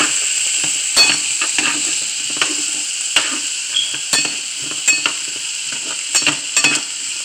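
Chicken frying in hot oil in a pan while being stirred, a steady bright sizzle with repeated scraping and clinking of the utensil against the pan, close and loud, no talking.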